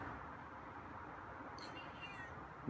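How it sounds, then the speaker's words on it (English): A feral cat meows a couple of times at close range, fairly soft, against a quiet room hum. "You're meowing."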